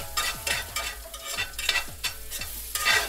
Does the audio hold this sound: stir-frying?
yes